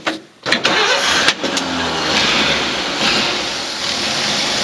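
A 1954 Dodge Power Wagon with a rare winch, given a frame-off restoration, starts from ice cold: a brief cranking burst catches into a loud, steady mid-pitched engine idle close by.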